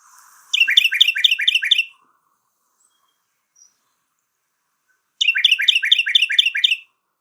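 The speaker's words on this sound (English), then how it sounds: "Here is the song of the Carolina wren." A Carolina wren sings two loud, clear phrases, each a quick run of about six repeated bright notes. A few seconds of silence separate the two phrases.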